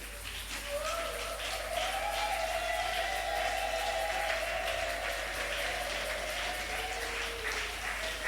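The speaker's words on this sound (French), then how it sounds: "On peut se lever et acclamer pour nous-mêmes." Mothers at a church celebration stand and applaud for themselves, a steady, dense clapping that holds throughout at moderate distance, with faint tonal murmurs or voices underneath.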